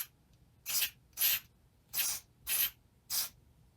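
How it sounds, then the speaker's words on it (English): Contact cleaner sprayed onto a cassette mechanism of a Sanyo M7770K boombox, five short close-up hissing bursts in an even rhythm, each about a quarter second, separated by near silence. "I'm going to use contact cleaner for that."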